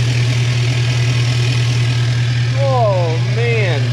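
An L5P Duramax diesel truck engine with emissions equipment deleted idles with a steady, loud low rumble close by, and a voice briefly cuts in near the end.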